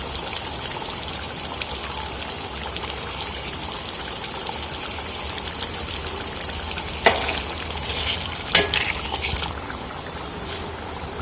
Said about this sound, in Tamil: இந்த பேஸ்ட்டோட பச்சை வாசனை போகிற வரைக்கும் நல்லா வதக்கிக்கலாம்